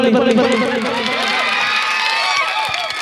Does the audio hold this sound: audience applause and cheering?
yes